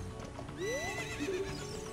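Horse in Zelda: Ocarina of Time neighing with a rising whinny, followed by short clip-clop hoof sounds, moderately quiet over a faint game background.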